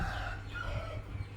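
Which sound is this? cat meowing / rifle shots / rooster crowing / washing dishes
rooster crowing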